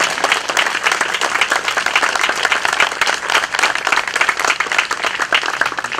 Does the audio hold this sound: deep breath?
no